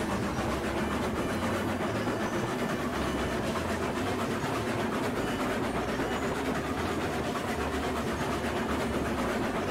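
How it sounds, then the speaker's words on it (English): A locomotive in the RailRoads Online video game hauls a gear train across a bridge, giving a steady, continuous low rumble with rhythmic clickety-clack of wheels on rail throughout, loud and unbroken with no talk. "Calamity Bridge is giving this gear train a workout."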